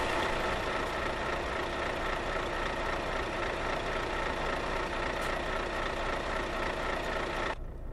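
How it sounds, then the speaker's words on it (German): A truck engine in the video game Euro Truck Simulator 2 runs at a steady, loud idle, a dense even drone with no speech, cutting back abruptly near the end. "Ich müsste dazu den Motor anmachen."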